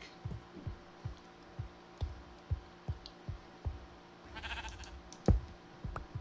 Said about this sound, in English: Oh, a sheep died.